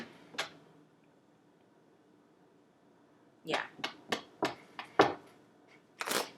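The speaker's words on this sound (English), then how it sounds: "I'll shuffle these cards" A deck of tarot cards is shuffled by hand: a single flick, a pause, then a quick run of crisp riffling snaps and slaps, close and fairly quiet.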